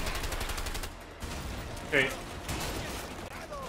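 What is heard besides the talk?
gunfire in the video game A Way Out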